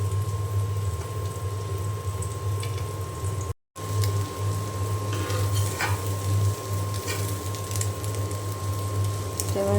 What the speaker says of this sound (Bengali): এখন আমি এই পাশে খুব ভালো করে ভেজে নেব।